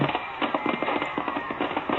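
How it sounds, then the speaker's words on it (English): Fireworks sound effect in an old-time radio drama, a dense run of rapid crackling pops and bursts fired by pension marchers, loud and continuous with no voices over it. "Oh, pension marchers setting off fireworks."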